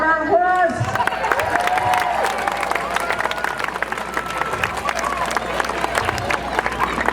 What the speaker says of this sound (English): Give Riggs another round of applause.